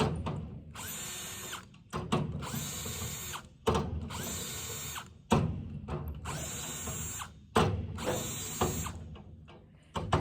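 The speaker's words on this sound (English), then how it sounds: "We've got them on the lowest setting on the impact to tighten them up." An impact driver on a low setting tightens bolts on farm equipment in repeated loud, close bursts of rapid ratcheting hammering, about five runs separated by short pauses.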